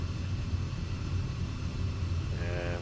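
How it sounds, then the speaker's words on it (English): Distant thunder from a storm in Microsoft Flight Simulator 2024 rumbles low and steady beneath the hum of a Pilatus PC-6 cockpit, a soft continuous roll with no sharp crack. "Yeah, there's a thunderstorm on the right side."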